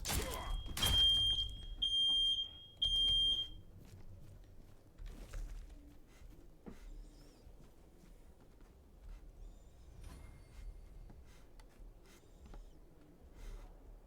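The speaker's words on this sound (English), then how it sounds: "Smoke alarm." Smoke alarm in the video game Tainted Grail: The Fall of Avalon gives a few short, high, piercing beeps early on, then fades under a quiet game ambience with scattered soft clicks and thumps.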